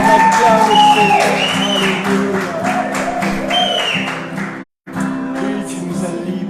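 Congregation applauding during a Catholic church celebration, steady loud clapping with a voice and sustained musical tones over it, briefly cut to silence near the end before the clapping resumes.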